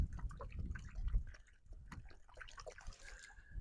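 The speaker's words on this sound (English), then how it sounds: "Hopefully you can hear that water draining." Water drains and drips out of soaked potted houseplants, succulents and cacti, giving soft irregular trickles and patters close by with faint background noise in between.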